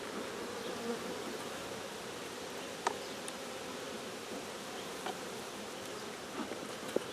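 Honey bees buzz steadily around an open, healthy hive full of brood and pollen, a dense continuous drone with a few brief louder passes close by.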